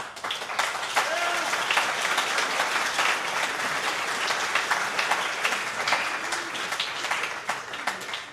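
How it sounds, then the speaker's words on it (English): Convention audience applauding candidates who filed to run for office, a sustained, evenly dense clapping that fills the room for several seconds, with a few voices faintly mixed in. "We will now start with a round of applause for all candidates who filed to run"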